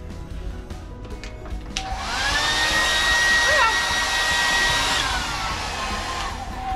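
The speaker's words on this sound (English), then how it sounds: "the other one had your hair dryer. How powerful is that?" A hair dryer in a cruise ship cabin starts up and runs with a steady, loud whirring blow, its pitch shifting slightly before it settles back down.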